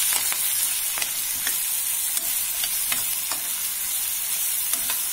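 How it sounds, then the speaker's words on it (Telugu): Chopped onions and curry leaves fry loudly in hot oil in a pan for an egg tomato curry, a dense continuous sizzle broken by regular spatula scrapes and stirs, close up with no voices. "ఆనియన్స్ ని మనం ఒక 4 నిమిషాలు వేయించిన తర్వాత"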